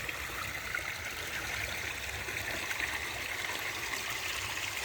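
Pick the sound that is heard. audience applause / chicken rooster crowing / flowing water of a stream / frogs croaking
flowing water of a stream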